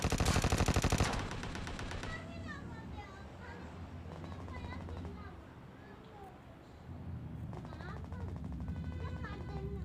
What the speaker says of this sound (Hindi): यहाँ पे फिर वो बंदा मुझे फायरिंग दे रहा होता ऊपर से